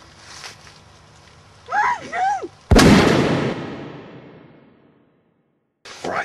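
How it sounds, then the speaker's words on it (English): A single loud gunshot cracks nearby in an outback setting and rings out in a long fading echo, preceded by brief bird calls and followed by silence, then another short call. "the only way that we can do that effectively is to use the last round we got in this gun here"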